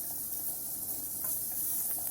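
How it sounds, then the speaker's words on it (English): Sliced onions sizzling on a hot grill pan: a steady, soft high hiss and crackle that continues throughout, fairly quiet with no talk. "On a hot grill pan, just add in some not very thinly sliced onions."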